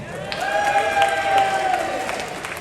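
Audience applause at a cruise ship evening show aboard the Carnival Paradise, a steady dense wash of clapping with a sustained tonal music line running beneath it.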